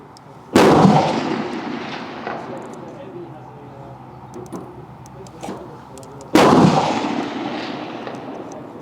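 Two sharp, loud rifle shots from a 10.5-inch Australian Automatic Arms SAC fired at an outdoor range, spaced about six seconds apart, each ringing out with a long echoing decay.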